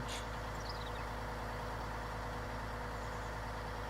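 A large tractor pulling a seeder and tank idles in Farming Simulator 19, a quiet, steady low engine hum with even harmonics throughout and no speech.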